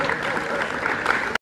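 A crowd applauds steadily in a lecture hall for about a second and a half before cutting off abruptly.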